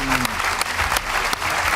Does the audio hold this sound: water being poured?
no